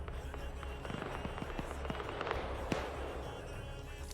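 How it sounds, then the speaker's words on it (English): Distant gunfire in an Arma 3 battle crackles as sharp, scattered pops and short bursts over a low, steady rumble of background noise. "Hearing some more gunfire going off up here."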